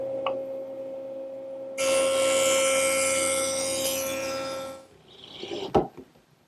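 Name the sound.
jointer smoothing a saw cut on wood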